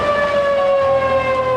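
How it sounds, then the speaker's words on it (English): Outdoor warning sirens sounding during overnight flash flooding in Boulder, Colorado, a loud sustained steady wail that holds one pitch throughout with no voices. "The sirens have just sounded again in Boulder."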